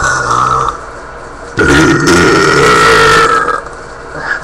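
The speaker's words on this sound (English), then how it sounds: "Then my burping woke her up." A person lets out a long, loud, close burp late at night, a deep rumbling eructation lasting about two seconds after a quieter stretch.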